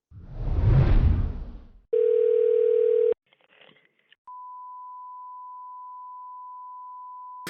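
Telephone call to a bullion dealer: a rushing burst, then a loud steady busy-type tone cut off, brief clicks, and a clean continuous dial tone holding steady to the end.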